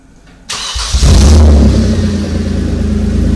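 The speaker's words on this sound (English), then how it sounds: "We're going to start the engine by pressing the power button." A 2007-2009 Kia Sorento engine, started by remote, cranks and catches after a brief click, roaring up loudly before settling into a steady rumbling idle.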